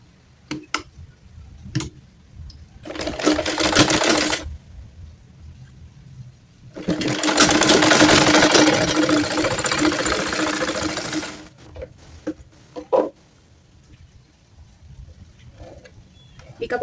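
A sewing machine stitches fabric for a baby frock in two bursts of fast, steady whirring and rattling, the second one longer, separated by quiet clicks and handling taps of cloth.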